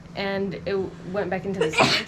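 A sharp, sudden sneeze bursts out near the end, following a stretch of steady talking in a close voice.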